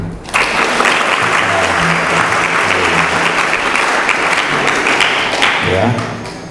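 An audience breaks into sustained applause, a loud dense wash of clapping that rises fast and fades near the end, with a few voices briefly audible underneath.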